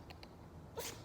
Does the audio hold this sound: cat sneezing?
yes